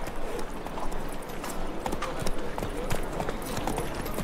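Roach the horse's hooves clip-clopping in The Witcher 3, a steady run of soft, moderately paced hoof strikes over a quiet ambient bed, heard alone.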